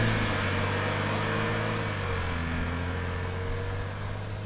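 A BMW 335i xDrive Touring accelerating, heard as a steady, muffled engine hum and road drone from inside the cabin, constant in level throughout.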